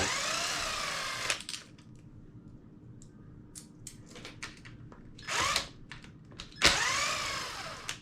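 A power drill unscrews bolts from the center section of a Hobao Hyper MT RC car. It gives three close, loud whirring bursts at the start, middle and end, with quiet handling noises between them.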